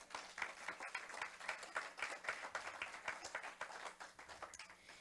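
A church congregation applauds during a sermon, sustained many-handed clapping in a rhythmic, even wash, faint and distant but continuous throughout.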